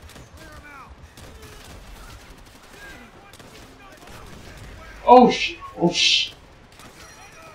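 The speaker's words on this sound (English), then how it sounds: "There's still a lot of dudes shooting at us." Gunfire in the video game Call of Duty World at War, a few sharp loud shots bunched near the end after quieter battle noise, with people talking throughout.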